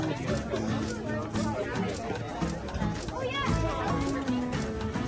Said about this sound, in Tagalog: Diyos ko, daming crowd.